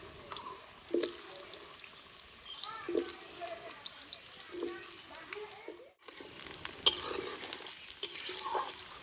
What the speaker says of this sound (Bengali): আলু শুধুমাত্র নুন দিয়ে ভেজে নেব